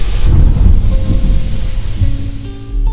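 Heavy rain pours down in a storm effect, with deep rolling thunder rumbling loudly underneath a steady wash of downpour, close and continuous with no voices.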